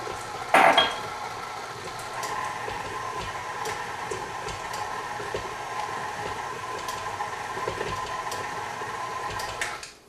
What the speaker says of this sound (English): So mix in all the chocolate on low speed.